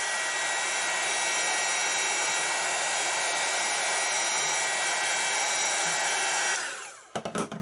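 A heat tool blows hot air to melt candle wax, making a loud, constant close roar that runs for about seven seconds and then cuts off, leaving faint handling sounds.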